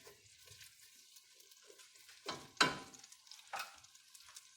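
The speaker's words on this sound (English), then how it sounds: "Just want to soften them up, saute them." Vegetables for a Bacalhau à Gomes de Sá cod dish sauté quietly in a pan over lowered heat, a soft steady sizzle broken by a few louder scrapes and stirs.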